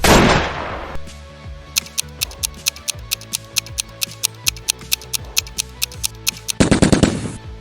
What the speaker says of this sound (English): Exactly, Skarking rifle.